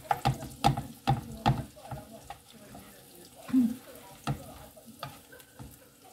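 A spatula stirring food frying in a pan for a full cooked breakfast: several sharp knocks and scrapes come in bursts over a soft, steady sizzle, close by.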